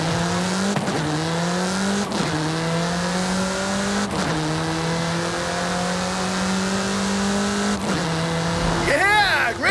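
Sports car accelerating hard in Forza Horizon 5, engine revving loud and close through repeated upshifts, each gear climbing then dropping, with a short tire squeal at the end.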